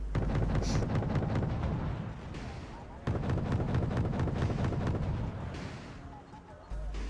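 Dense gunfire and explosions from a modern battle in the strategy game WarGame, with Marines and an Mi-28 helicopter engaged, rumble steadily and loudly throughout, with heavy low booms layered under rapid repeated shots.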